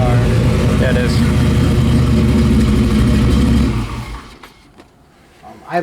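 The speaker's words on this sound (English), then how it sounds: "Idles down nice, shut it off" A 1973 Camaro V8 idles steadily at close range, then shuts off around four seconds in, with the rumble dropping away to quiet and faint handling noises after.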